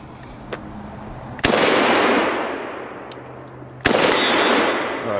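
Two loud, close SKS rifle shots fired at steel target plates, each a sharp crack followed by a long echoing decay, with a faint metallic ping between them.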